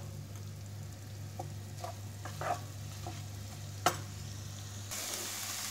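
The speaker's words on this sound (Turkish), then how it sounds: "Tekrar soğanımızı bir miktar karıştırarak kavrulmasını" Onions frying in a pan with a low steady sizzle, broken by a few soft scrapes and clinks of stirring, quiet and close, no talking.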